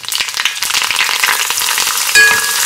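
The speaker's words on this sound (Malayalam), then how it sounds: "കണ്ടോ നല്ല ക്രിസ്പി ആയിട്ട് വറുത്ത് വരും" Small pieces frying in a hot pan of oil until crispy, a steady close sizzle with crackling pops and a few stirring clinks throughout, growing slightly louder near the end.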